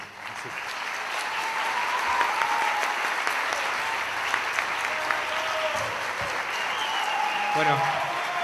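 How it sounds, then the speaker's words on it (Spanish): A concert audience at a film festival in Buenos Aires applauds the musicians steadily, a dense wash of clapping from a crowd that carries on for several seconds with scattered louder claps. "Y les pido un aplauso para todos los músicos."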